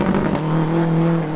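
A caged retro race car with a full FIA roll cage and big rear wing roars loudly at close range at a Retro Rides Gathering, its engine note steady and strong through the short burst.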